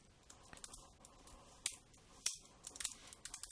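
Keys on a computer keyboard clack in a quick, uneven run of soft taps, with a few sharper presses standing out, close and quiet.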